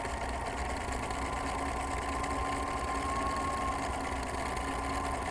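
A sewing machine runs a satin stitch through fabric with a flat presser foot, a steady fast mechanical whir that continues without pause.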